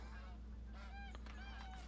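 Geese honking in the hunting game TheHunter Call of the Wild, several overlapping nasal honks from a flock at moderate distance over a steady low ambient hum.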